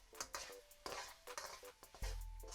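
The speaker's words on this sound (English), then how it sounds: "add the raw keema mince and fry for around 5 minutes to cook through" Raw keema mince and onions fry in a pan while a utensil scrapes and stirs in quick uneven strokes, with a faint sizzle underneath and a thump toward the end.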